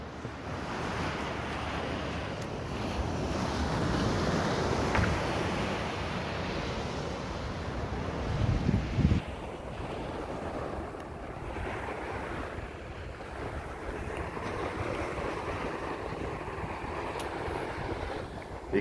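Steady ocean surf and gusting wind noise on the microphone while riding a 20-inch foldable Excel power electric bike along hard-packed beach sand, with tires deflated to about 6 PSI; a continuous roar with a brief louder swell midway.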